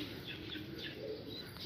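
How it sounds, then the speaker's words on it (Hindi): A flock of racing pigeons from a kept loft flies back in, soft cooing and faint wingbeat flutters over a steady low outdoor hum, distant and moderate, with no talking. "आ रहे कबूतर"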